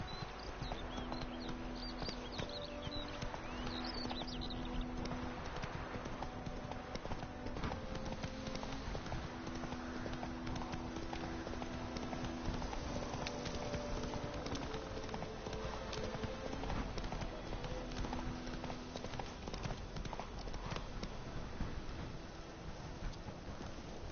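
Horse hooves galloping in The Witcher 3, a steady clip-clop rhythm under low droning game music and ambient wind, loud and continuous throughout.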